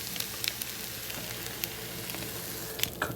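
Cut-up sausage and eggs fry in saved bacon grease, giving a steady, soft hiss with scattered small pops and crackles throughout, heard close up.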